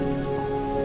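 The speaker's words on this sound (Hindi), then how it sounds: "बारिश" Rain falls in a steady, dense patter, a brief continuous wash of drops with no other sounds.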